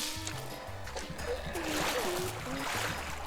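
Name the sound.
splash of character entering water, Neighbours from Hell video game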